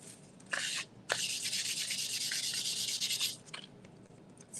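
Sandpaper rubbing over a high-gloss craft surface to dull it to a matte finish, two short strokes followed by a long steady stretch of close scratchy sanding, with no talking.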